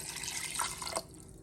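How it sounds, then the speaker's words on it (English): Water pours into a pan holding seasoned oxtail for a brown stew, a close, bright splashing stream that stops abruptly about a second in, with no talking. "And now we're gonna add the water."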